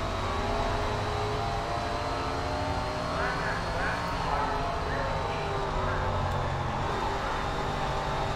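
A stock car engine drones steadily on asphalt in the SRX racing game, a dense even rumble at moderate level with little change in pitch, and someone talking faintly over it.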